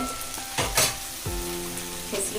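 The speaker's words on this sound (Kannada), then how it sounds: "ಈ ಕಡೆ ಈರುಳ್ಳಿ ಫ್ರೈ ಆಗಿದೆ" Chopped onion frying in oil in a pan while a milk curry with palak and egg is being cooked, a steady close sizzle with a couple of louder bursts as the pieces are stirred.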